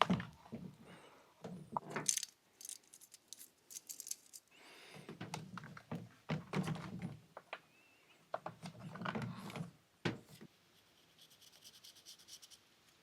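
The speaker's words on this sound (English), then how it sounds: "I'm gonna swap out the full chisel chain for the micro mic" Mechanical rubbing, clicks and dull knocks come in bursts as a full chisel chainsaw chain is pulled off and a micro chisel chain fitted, with gaps of quiet between handling sounds.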